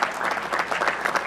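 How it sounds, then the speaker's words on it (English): A short burst of audience applause at a talk, many hands clapping together in a dense, lively patter that stays loud throughout. "Give yourself a round of applause."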